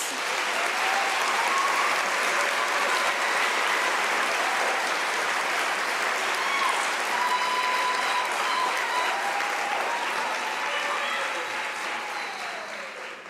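A large audience at a university spring graduation ceremony in South Africa applauds, steady, loud and sustained clapping filling the whole stretch, with a few cheers rising above it before it slowly tapers at the end.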